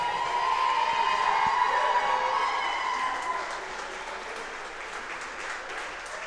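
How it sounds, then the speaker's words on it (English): A crowd applauds a first-place winner in a female intermediate competition, a broad wash of clapping that starts strong and gradually thins out, with a faint tone and murmuring voices underneath. "give these ladies another round of applause"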